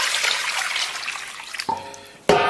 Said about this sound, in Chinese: 咱把这肥肠反复给它清洗个7、8遍。